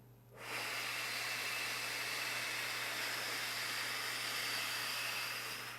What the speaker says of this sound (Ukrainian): Вдих і видих